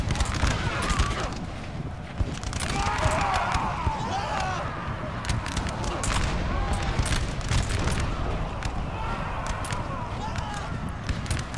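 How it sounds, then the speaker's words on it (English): Musket volleys crack and boom in a Napoleonic-era battle, 1812 Russian retreat at Berezina, in Napoleon Total War: repeated sharp reports and rumbling fire over wind and battle noise, with a voice talking throughout. "They're going to put a volley or two into the Russians, but the Russians will fire first."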